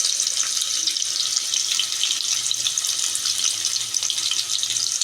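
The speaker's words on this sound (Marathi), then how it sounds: "त्याच्यावरती आपण आता कांदा टाकून घेत आहोत." Chopped onion frying in very hot oil in a pan while cooking an egg dum biryani, giving a steady, loud, continuous hiss and sizzle with no talk over it.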